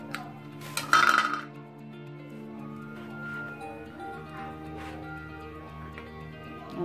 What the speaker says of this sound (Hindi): और हमारा जो चिकन बॉयल है वो हमने मिक्स करना है इसमें